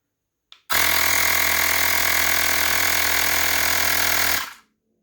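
A Xiaomi Portable Electric Air Pump 1S inflating a tire runs as a loud, steady, buzzing motor drone close by. It starts abruptly, holds an even pitch for about four seconds and then cuts off.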